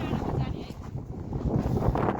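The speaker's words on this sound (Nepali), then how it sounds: "एकदम बेजोक बेजोक चिसो चिसो टाइपको हावा चलिरहेको छ" Strong wind buffets the microphone in rough, continuous gusts, with a voice faintly mixed into the rumble.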